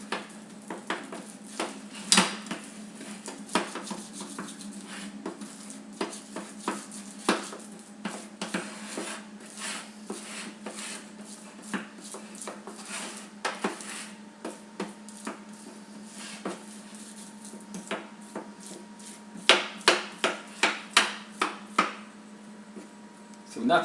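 Banana and apricot flapjack mixture spread into a tin, a long run of repeated sharp taps and scrapes of a utensil against the metal tin, with a busier cluster of knocks near the end.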